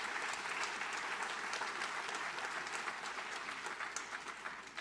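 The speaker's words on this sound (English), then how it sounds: "That deserves applause." Audience applause at an indoor pro bono recognition ceremony, a steady dense wash of clapping that holds for several seconds, heard from a moderate distance.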